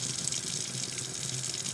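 Water rushes and pours steadily through a plastic coffee brewing device with large holes, a continuous close splashing hiss like a running tap, with no talking.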